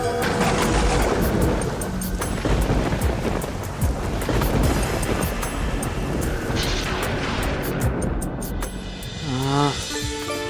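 Heavy rain pours steadily with rumbling thunder beneath it, a dense, loud wash of noise across the whole stretch, and a brief tonal sound enters near the end.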